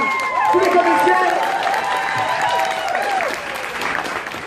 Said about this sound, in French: un bon applaudissement pour tous les comédiens